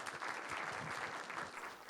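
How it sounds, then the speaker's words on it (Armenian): Audience applause welcoming a speaker at an AI conference talk, a brief, steady patter of clapping heard from some distance, fairly soft. "Խնդրում եմ ծափարեք"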